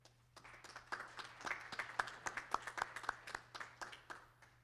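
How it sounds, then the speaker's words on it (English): Scattered hands clapping in a round of applause for family and friends at an honor society induction ceremony, a modest crowd heard faintly from a distance, steady for several seconds then tapering. "Please give your family and friends a round of applause."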